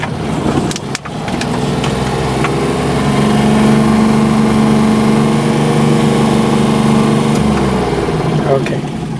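A manual-transmission car engine runs steadily at a low idle-like drone throughout a driving lesson, close and loud, with a faint tone rising midway and brief clunks near the start.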